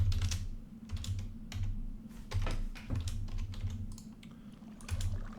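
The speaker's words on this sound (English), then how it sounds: "Recognize me typing things." Steady clicking of someone typing on a computer keyboard, close and fairly quiet, with irregular bursts of keystrokes and short pauses over a low background hum.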